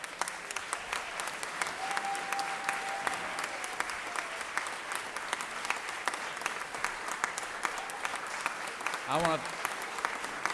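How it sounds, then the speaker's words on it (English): A chamber of senators and onlookers at a state Senate session gives a sustained round of applause, moderately loud and steady with crisp individual claps, and a voice briefly begins speaking near the end. "Let's give him a round of applause."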